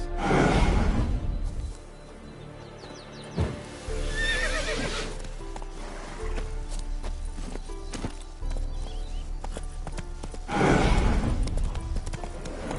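Horse hooves clip-clop steadily through a scene in The Witcher video game, with loud horse whinnies and snorts at the start and again near the end, close and prominent with no speech.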